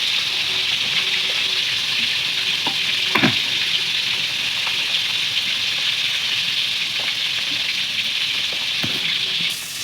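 Fish pieces frying in oil sizzle loudly and continuously up close, broken by a few sharp clicks and scrapes from stirring or turning in the pan, with no one speaking.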